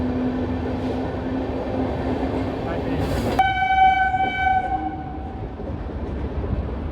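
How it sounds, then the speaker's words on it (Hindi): The Shri Ganganagar–Delhi Intercity Express rumbles closer, then its horn blasts a loud, sustained multi-tone note for about two seconds before fading back into the rolling train noise. "ये अपनी वाली ट्रेन आ रही है"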